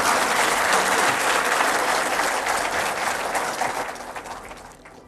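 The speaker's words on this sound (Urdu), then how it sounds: "جن کے لیے بہت زوردار تالیاں لگیں" Loud applause at an official event honouring guests including Pakistan's Prime Minister Shehbaz Sharif, a dense sustained crowd clapping that fades gradually toward the end.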